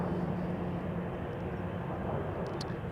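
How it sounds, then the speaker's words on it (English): Embraer E195-E2 jet taking off at Amsterdam Schiphol Airport, a continuous low engine roar at moderate distance, steady for the whole short stretch, with no voices. "Another E2 Embraer 195 just now took off from center to Krakow, Poland."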